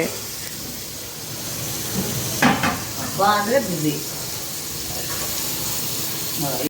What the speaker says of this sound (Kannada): ಇದು ಸಾರಿಗೆ ಒಗ್ಗರಣೆ ಹಾಕ್ತಾ ಇದ್ದಾರೆ